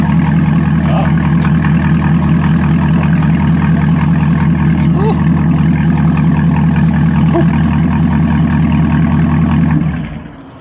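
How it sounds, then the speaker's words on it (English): A Camaro fitted with a new exhaust idles loudly and close by, a deep steady rumble with a throbbing low pulse that holds evenly before fading out at the end. "Wow, my car makes a different sound."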